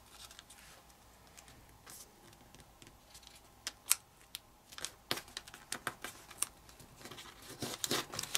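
Origami paper being folded by hand while making a puffer fish model, soft faint crinkles and sharp creasing snaps, sparse at first and then quicker and more frequent toward the end.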